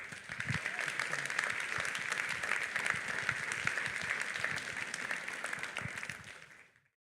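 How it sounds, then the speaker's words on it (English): Steady, dense applause from an audience fills the room for several seconds, then quickly dies away to silence. "Give them one more round of applause."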